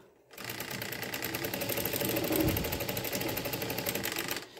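A sewing machine runs steadily for about four seconds, stitching washable cloth wipes, with a dense, even mechanical whirr and rapid needle rhythm close up, starting and stopping abruptly.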